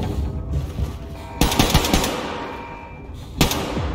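Rapid gunfire from a scoped rifle in the shooter game Wolfenstein II: The New Colossus, loud close bursts of shots with a sharp burst near the start and another single blast toward the end, no talking.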